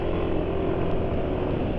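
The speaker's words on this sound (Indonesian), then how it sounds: "tapi ini suara mesin kasar karena pemakaian penulis" Yamaha NMAX scooter engine running rough, a steady close idle hum with a slightly uneven, harsh tone and no speech.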